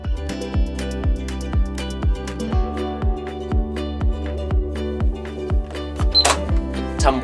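A washing machine powered by an off-grid solar system starts up with a steady run of mechanical clicks about every half second over a low, even hum, close by and with nobody talking.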